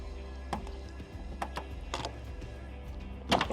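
A heater core hose coupling on a 2009 Nissan Xterra being worked loose and cracking, a few sharp close plastic clicks and snaps spaced over a few seconds, the loudest crack near the end, no talking.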